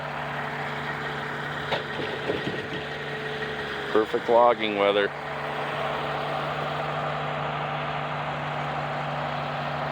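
Diesel engine of a logging truck idles in steady, low rumbling tones while a Ponsse Buffalo forwarder loads spruce bolts nearby; someone talks over it and brief mechanical clatter rises near the middle.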